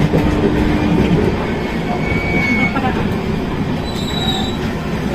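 A passenger train runs on rails with a loud, continuous rumble and rattle heard from onboard, with faint squealing tones rising in the later part and a voice talking underneath.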